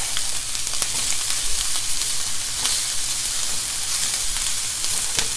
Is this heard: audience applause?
no